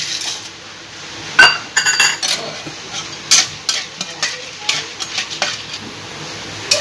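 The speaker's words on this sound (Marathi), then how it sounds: "आता आपण फुटाण्याची डाळ भाजून घेऊया।" Chana dal roasting in a pan, stirred with a spoon that scrapes and clinks against the metal in irregular bursts over a soft, steady dry rustle, close up with no talk.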